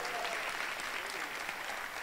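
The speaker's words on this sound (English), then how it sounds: "can we give another a round of applause for our presidents right here?" A student audience at a campus play event applauds, a dense continuous patter of many hands clapping, fairly faint and even throughout with no clear talk over it.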